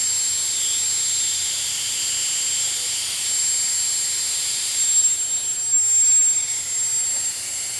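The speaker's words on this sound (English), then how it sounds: "the compressor came on" An air compressor runs steadily in a workshop, a continuous loud broadband hiss and whine with a faint high tone, swelling slightly toward the end.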